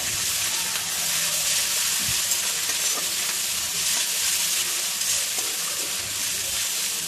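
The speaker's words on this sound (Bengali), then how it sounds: "পেঁয়াজ আর লঙ্কাটা একটু ভাজা ভাজা হলে আদা রসুন বাটা দিয়ে দিলাম।" Ginger-garlic paste frying in a pan with onion and green chilli, a steady close sizzle with occasional stirring scrapes, continuous and fairly loud throughout.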